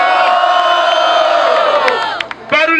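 A crowd of spectators cheers and whoops loudly at a street rap battle, a dense sustained roar of many voices that dips briefly before surging again with shouts.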